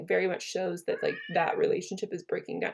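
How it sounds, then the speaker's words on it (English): A pet cat meows a few times in the background while a person talks steadily over it indoors. "If you can hear my cat in the background"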